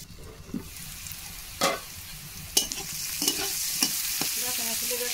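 Kathkol vegetable is stirred and fried in a pan, giving a steady close sizzle broken by several sharp scraping clacks of a spatula against the pan.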